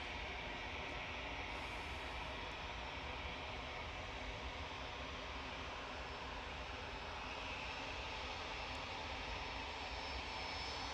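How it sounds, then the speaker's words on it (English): KLM Embraer E190 airliner touching down on runway 23R at Manchester Airport, a steady faint distant jet roar sustained without voices. "Just about to touch down on 2-3 right. KLM E190 coming in from Amsterdam."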